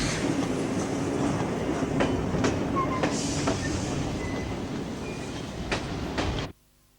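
A train rumbles steadily along the rails with repeated clicking wheel beats, close and loud, then cuts off abruptly near the end.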